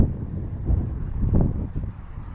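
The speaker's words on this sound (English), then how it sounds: "The wind's dying down." Wind blowing hard across an open spot while fishing, a low rumbling buffet against the microphone that surges and eases in gusts, with no voices.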